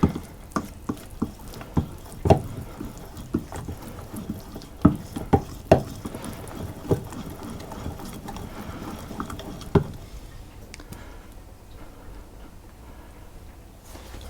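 A dough whisk working through thick ginger loaf cake batter in a bowl, giving irregular wet knocks and scrapes against the sides that stop near the end, leaving quiet.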